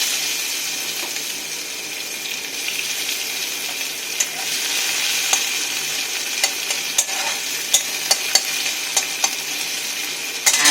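Chopped onions fry in a pan while a pui shak and chalkumra dish is cooked, giving a steady close sizzle broken by scattered sharp clicks and scrapes of stirring, growing busier toward the end.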